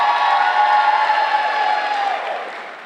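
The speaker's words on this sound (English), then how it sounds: "Let's give them one more round of applause." A large audience at a school district back-to-school convocation claps in sustained, even applause that slowly fades toward the end.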